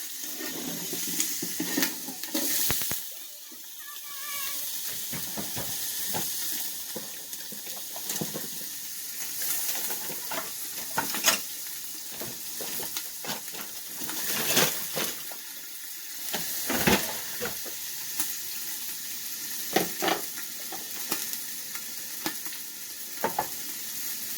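Goulash meat being dumped into a big pan sizzles and crackles steadily throughout, with scraping stirs and clinks of a utensil against the pan, close and continuous with no talk.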